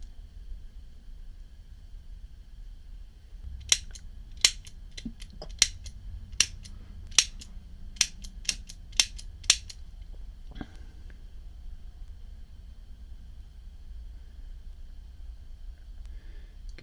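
Small metal screw on a vintage Ronson Crown petrol table lighter being tightened down after fitting the flint and flint spring: a run of about ten sharp, close clicks over a few seconds, then quiet room hiss.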